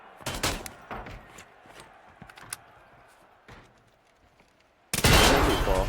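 Gunfire in the Hunt video game comes as scattered bursts of shots at moderate distance, followed near the end by a sudden loud grenade blast with a rumbling tail.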